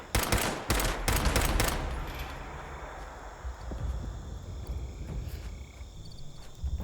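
Turret gunfire in the video game Fallout 76, a burst of rapid shots at the start fading into a sustained noisy rumble with scattered crackles.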